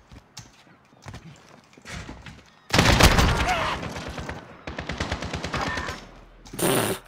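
Assault rifle fire in Call of Duty Modern Warfare (2019), bursts of rapid close automatic shots, with one long loud sustained volley in the middle and a final short burst, over quieter game sounds.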